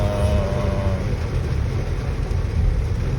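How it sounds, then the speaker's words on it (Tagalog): Heavy rain pounds on a 2024 Toyota Avanza G 1.5 CVT, heard from inside the cabin as a dense, steady roar that holds evenly loud throughout, with no one talking. "siguro talagang malakas yung ulan, medyo dinig mo talaga yung tubig sa loob, no? Yung bagsak ng tubig"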